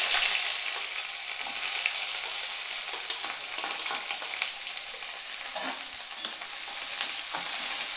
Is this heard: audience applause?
no